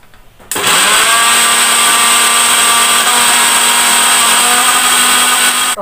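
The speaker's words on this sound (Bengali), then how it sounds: "তো চলো মিক্সি মশলাটা আমি করে নিই।" Electric kitchen mixer grinding spice paste: the motor starts abruptly and runs at a loud, steady high-pitched whine with a grinding rasp, close by, for several seconds.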